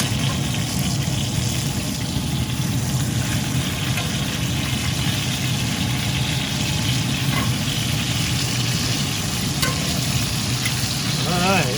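Apple cider pork chops fry in a pan with a loud, steady sizzle that fills the whole stretch, close and continuous, with a few faint clinks and scrapes over it.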